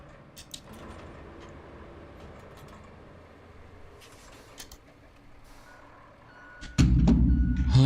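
Truck in the Roadcraft video game, beeping in regular reverse-warning tones over a low idling engine hum, then a loud engine rumble surges up near the end.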